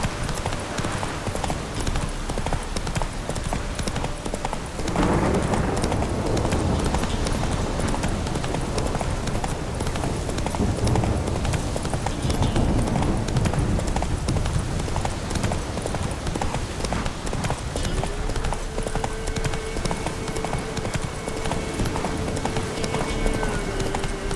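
Roach, Geralt's horse in The Witcher 3, gallops in a fast, relentless drumming of hooves over ground, loud and close throughout, with a faint tonal sound entering near the end.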